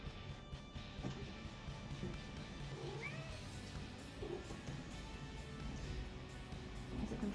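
A cat meows once, faint and fairly short, against a low steady background murmur.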